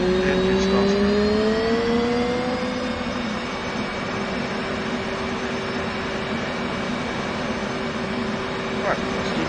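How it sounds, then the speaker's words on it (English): An F/A-18 jet engine spools up during a cockpit startup in DCS World, a rising whine that settles into a steady turbine drone with a low rumble underneath. "You hear it, the engine starts to go."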